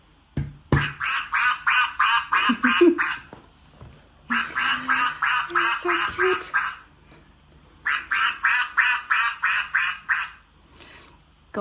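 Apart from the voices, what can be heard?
mallard duck quacking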